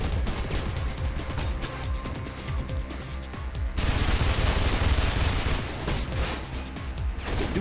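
Heavy automatic gunfire striking the player in the video game Mirror's Edge, a relentless rattling barrage of rapid shots that grows louder and denser partway through and keeps going.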